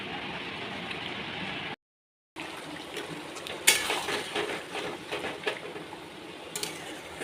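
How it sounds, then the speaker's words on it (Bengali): Meat being sautéed and stirred (kosha) in a pan for a lunch dish, a steady sizzle with scraping and clinking of a spoon against the pan, briefly cut to silence before resuming with irregular stirring knocks. "এখন এখানে হচ্ছে মাংস কষানো"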